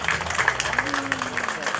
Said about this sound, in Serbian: ajmo jedan veliki aplauz za kolegu